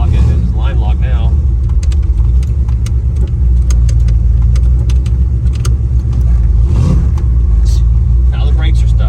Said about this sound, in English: We're gonna try to do a little burnout here.